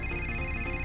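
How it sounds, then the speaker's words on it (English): A phone rings inside a GTA video game with a steady electronic tone, heard on its own. "Oh, pick up the phone"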